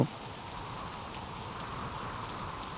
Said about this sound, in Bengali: বলতে না বলতেই শুরু হয়ে গেল ঝুম বৃষ্টি, ঠান্ডা বাতাস, চারপাশ অন্ধকার হয়ে গেল।